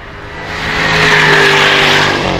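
A supercar accelerates hard at the Goodwood Festival of Speed, its engine note swelling loud and near into a sustained roar, then easing slightly as it pulls away.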